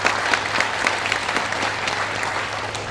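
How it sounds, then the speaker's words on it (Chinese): A seated crowd at a corporate leadership training session claps in a lively, continuous round of applause. It holds steady from start to finish, with no speech heard over it. "以这样快的行动力，我们给他一个掌声"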